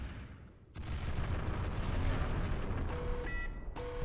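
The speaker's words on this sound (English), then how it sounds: "Let's go for this dude with the EMP barrage." An EMP barrage cannon fires in the space strategy game Final Theory. Heavy booming blasts roll together into a dense, continuous barrage, loud and close, with faint electronic tones ringing through near the end.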